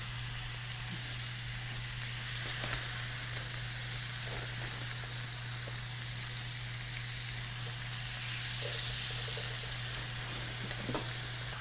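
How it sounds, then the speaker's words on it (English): Chicken pieces sizzle on a hot grill as an outdoor summer cooking session begins, a steady close frying hiss running the whole time with faint clicks and pops and no talking. "I love the sizzle."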